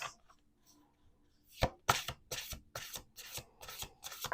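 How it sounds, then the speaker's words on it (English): Playing cards shuffled by hand during a card reading, a quiet start followed by a run of crisp riffling bursts and taps in quick irregular rhythm, close and alone. "Let's do 2 more shuffles."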